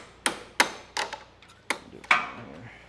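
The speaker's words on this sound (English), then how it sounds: "And then what I do is I'll tap with a hammer." A hammer taps sharply on a Briggs & Stratton lawn tractor engine, about six quick metallic knocks in an uneven rhythm, close and fairly quiet.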